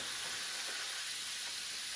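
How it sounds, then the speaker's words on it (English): Spinach sizzles in a hot frying pan on a stovetop, a dense continuous hiss of frying, steady and close, with no voices. "The frying pan is hot."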